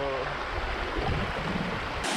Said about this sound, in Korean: 워터풀 치고는 좀 시냇물 같다